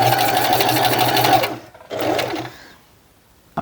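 A sewing machine back-stitches the ends of tote bag straps, running forward for over a second, stopping briefly, then a shorter run before falling quiet, loud and close.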